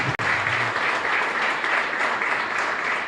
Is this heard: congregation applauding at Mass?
yes